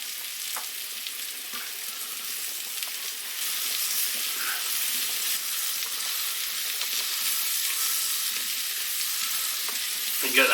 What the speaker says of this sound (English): Just stir them and fry them for a minute.